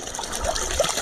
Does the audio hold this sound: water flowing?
yes